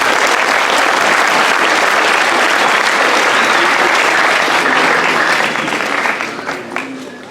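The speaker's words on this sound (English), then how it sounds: "Let us clap hands for those that represented the institution." A large school assembly crowd at Prince Edward School claps loudly for the squash team, with steady, dense applause that tapers off over the final second.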